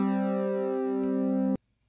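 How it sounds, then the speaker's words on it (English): BeepBox synth playing two stacked notes with a shimmer effect, a steady bright harmonic tone with slight wavering, sustained for about one and a half seconds before cutting off cleanly. "it will shimmer a little bit"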